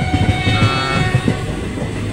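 Howrah–Suri Hool Superfast Express (22321) running just after leaving the station, heard from inside a reserved coach as a steady low rumble with irregular wheel clacks and a constant mechanical hum.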